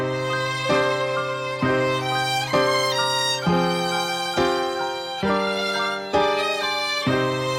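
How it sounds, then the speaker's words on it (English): Elements of Soul string phrase layered with a detuned piano in a slow, moody trap-style beat, sustained chords changing every second or so in a steady, loud loop with no voices. "For the strings, I used the Elements of Soul string phrase right here."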